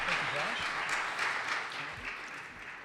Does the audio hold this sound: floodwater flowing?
no